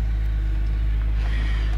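A BMW S50B32 engine runs with a steady, loud low rumble and a constant hum, unbroken across the moment with no voices over it.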